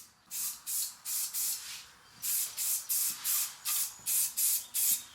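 Short repeated bursts of spray from a paint gun coating parts of a 50 HP F150 Power Wheels ride-on truck, about a dozen even hissing passes, each starting and stopping cleanly, close and alone.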